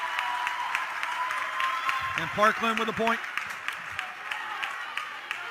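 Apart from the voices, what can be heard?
crowd cheering and applauding at a volleyball semifinal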